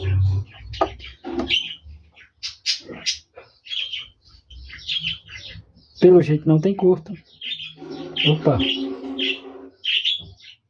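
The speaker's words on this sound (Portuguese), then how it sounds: "Passarinhozinho aí lindo cantando." A small bird sings nearby in short chirps and trills, fairly clear but intermittent, while someone talks over it as he tests a power supply.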